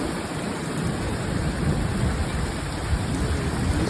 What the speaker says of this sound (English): It's the thunder.